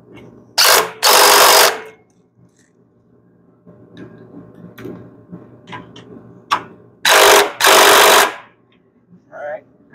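Two loud bursts of a power tool whirring, each lasting about a second, tightening bolts during a starter installation on a Hustler Fas Trak 60 mower, separated by quieter clicks and handling noises.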